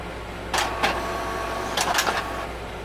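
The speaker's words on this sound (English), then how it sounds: "we're going to hit that, and then we're going to let it print" An Epson ET-2760 printer runs through a page with a steady mechanical hum, punctuated by a few brief whirring and clicking bursts of its moving parts, close up with no talking.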